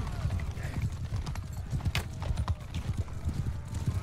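In the video game Mount & Blade II: Bannerlord, horse hooves clip-clop in a steady, busy rhythm, close and continuous, while people talk.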